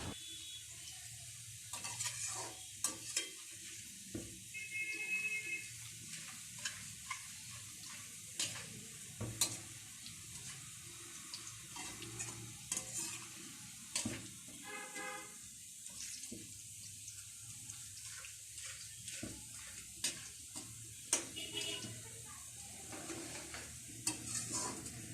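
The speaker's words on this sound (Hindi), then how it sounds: "हम इसके अंदर मुसलसल थोड़ा सा इसको हिलाते रहेंगे ताकि अनियन कोई ब्लैक ना हो" Onions fry in a pan for a turnip shaljam dish and are stirred continuously, making a soft, steady sizzle broken by repeated scraping stirs, fairly faint and with no talking.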